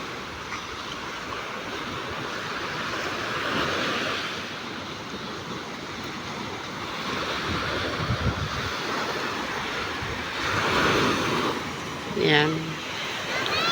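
Strong wind buffets the microphone at a seashore while sea waves wash in, a broad rushing roar that swells and eases in gusts, with someone speaking briefly near the end.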